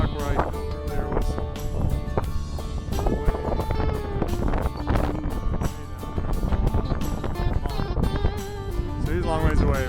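Strong wind buffeting across a Montana hillside during a mule deer hunt, loud gusty roar and microphone rumble with thumping footsteps, while a person talks throughout.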